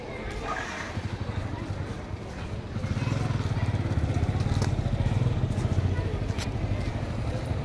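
A scooty rumbles up nearby, its engine growing louder and steadier from the middle onward, with voices in the background.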